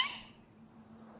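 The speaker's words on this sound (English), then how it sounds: "Is that a cat? I just got here." A short, faint cat meow from the video game Here Comes Niko, set in Hairball City, fading over about a second with no talking.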